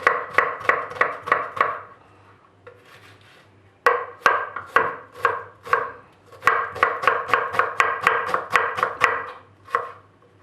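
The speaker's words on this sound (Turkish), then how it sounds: "Soğanlarımızı biraz ince doğrayabiliriz." Onions are chopped finely with a knife on a cutting board in quick, even runs of crisp taps, with one brief pause and a few slower strokes near the end, close and clear with no speech.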